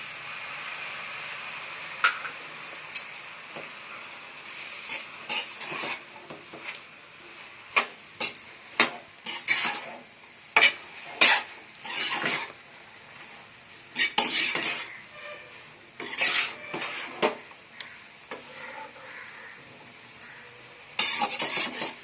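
Noodles tossed with noodle masala and soy sauce in a pan: scattered metallic scrapes and clinks of a spoon against the pan in irregular bursts over a low sizzle, close and with no talk.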